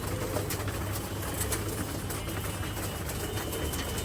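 Pigeons in a farm loft cooing steadily, a low continuous murmur of several birds close by, with a faint mechanical hum running underneath.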